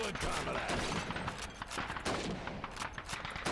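Gunfire in a video game shooting range, dense rapid bursts of shots crackling one after another with a few heavier booms, loud and continuous, with a voice partly mixed in.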